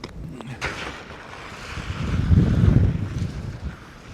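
Strong wind gusting across a frozen lake, buffeting the microphone with broad roaring noise that swells louder midway and then eases off, with no voices.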